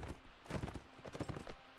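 Horse hooves in a video game near a river, a short, soft burst of irregular clopping steps that stay fairly quiet throughout.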